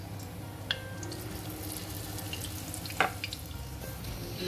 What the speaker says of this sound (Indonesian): Sekarang saya mau goreng dulu yang vegetarian.